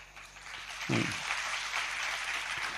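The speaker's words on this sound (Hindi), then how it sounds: "ये क्यों दिखाने के लिए आप तालियां बजाते हो?" Audience at a spiritual discourse applauding, a steady wash of many hands clapping at moderate level, with a brief low voice sound partway through.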